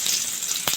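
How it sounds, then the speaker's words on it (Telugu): Chopped tomato frying in oil in a home kitchen pan, a steady bright sizzle with a brief louder spatter near the end, no voices. "టమాటాని ఈ విధంగా మంచిగా నూనెలో డ్రై చేసుకోవాలి."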